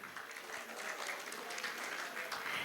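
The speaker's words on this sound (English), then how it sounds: "Can we have big round applause" Audience applause at INFOCOM Delhi 2025, an ABP Group technology conference opening, as a dense, steady wash of many hands clapping at moderate level throughout, with no voices over it.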